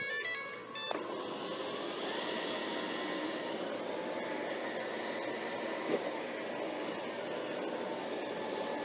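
A Shark ION Robot 750 robot vacuum runs indoors, giving a steady, fairly quiet whirring hum with a faint high whine, a soft bump near the start and another around the middle.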